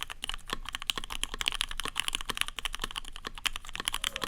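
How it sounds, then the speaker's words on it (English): Fingers type briskly on a Keychron Q2 mechanical keyboard, close and clear, a fast uneven patter of crisp keystrokes with no talking. "Your keyboard sounding thocky is basically your typing sound having a deeper tone to it."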